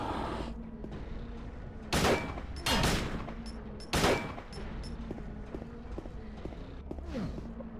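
Three loud, close gunshots ring out in Silent Hill HD Collection on PS3, each a sharp crack with a brief echoing tail, fired a second or so apart over a low, murky game ambience.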